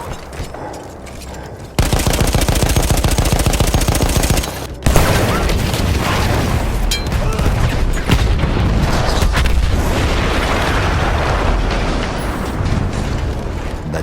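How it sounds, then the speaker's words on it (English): Battlefield 1 Italian-front battle: dense, loud bursts of rapid machine-gun fire and rifle shots mixed with heavy booming explosions, near and continuous after a brief quieter opening and a sharp cut midway. "That explosion was one of the sweetest sights of the war for me"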